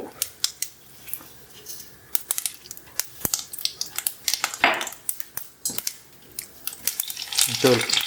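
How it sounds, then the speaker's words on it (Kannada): Mustard seeds sizzle and pop in hot oil in a pan, sharp irregular crackles scattered throughout, close and loud, with a voice talking briefly. "ಸೊ ಎಣ್ಣೆ ಕಾದಿದೆ ಇವಾಗ. ಸಾಸಿವೆ ಹಾಕಿದ್ದೀನಿ"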